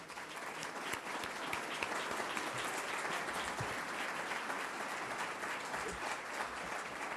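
Audience applause for panelists at a community panel event on neighborhoods, steady dense clapping from a crowd that carries on throughout.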